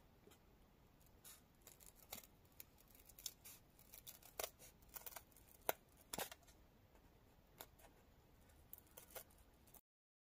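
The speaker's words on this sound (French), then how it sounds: "à l'aide de mon ciseau, eh bien, je vais venir couper ici le long" Scissors snip paper along a drawn line during a bookbinding guide craft session, a quiet series of sharp, irregular cutting clicks and crisp rustles close to the microphone, with no talking.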